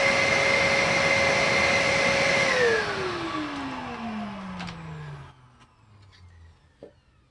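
A Bissell Heavy Duty 50C9 vacuum cleaner runs with its filter removed, a loud steady whine that drops in pitch as the motor winds down to a faint hum over several seconds.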